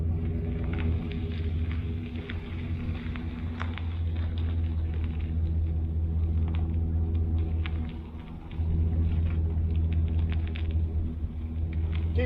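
A SCAG V-Ride mower engine runs with a loud, close, continuous rumble that dips briefly and then returns to full strength.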